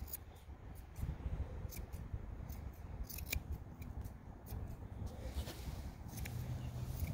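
Curved scissors snip through long hair on a Newfoundland dog's foot, a close, crisp series of small irregular cuts over a quiet background with faint handling noise.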